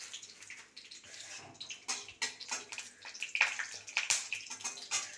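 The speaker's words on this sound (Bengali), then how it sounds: "খুব তেল ছিটাচ্ছে" Okra frying in hot oil with black mustard seeds, spattering and crackling in a dense, irregular series of sharp pops and sizzles close by, with no talk.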